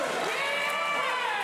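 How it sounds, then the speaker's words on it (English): Wrestling crowd cheering at a live show, a steady roar of voices heard from a distance and sustained without a break. "And this crowd is loving every second of it."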